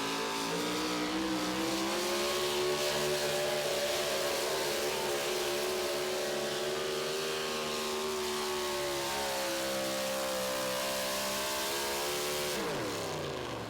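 A Ford pulling truck roars at full throttle through a truck pull run at Tomah, Wisconsin, its loud, sustained engine howl rising and wavering in pitch for about twelve seconds before cutting off abruptly near the end.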